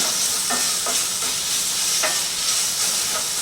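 Zucchini browning in a frying pan gives a steady, close sizzle with faint intermittent scrapes, like stirring, and no talking.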